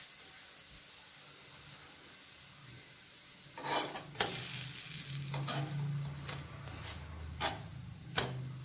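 Adai batter of wheat rava and moong dal cooking in a pan over medium flame gives a steady soft sizzle, with a few sharp ticks and scrapes of a spatula partway through, close and fairly quiet.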